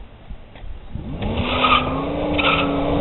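A 1998 Buick Regal accelerates up a street, its engine note rising after a quiet first second and holding loud and steady, with a faint tire squeal on top and no talk.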